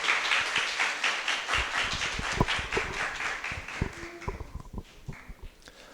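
Audience applause welcoming a speaker at a chemistry talk, a dense burst of clapping that thins out into scattered claps and a few thumps as it dies away.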